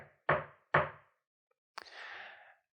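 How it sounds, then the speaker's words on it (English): Two firm knocks on a door land in quick succession inside a told story, followed by a brief thump and a rustling scrape. "The leader knocked on the door"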